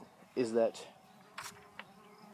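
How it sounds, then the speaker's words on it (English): A bee buzzes close by outdoors in a brief loud pass, with a few faint buzzy traces afterward and a voice speaking briefly. "Holy shit, that's a bee."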